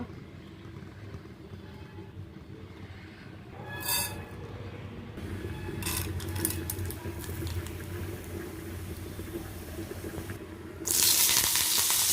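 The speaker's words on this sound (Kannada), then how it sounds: "ಚಿಕ್ಕದಾದೊಂದು ಒಗ್ಗರಣೆ ಕೊಡುವ." Tempering spices hit hot oil for a pumpkin red curry, bringing a few short sizzling bursts followed by a loud, bright, hissing crackle near the end over quiet kitchen background noise.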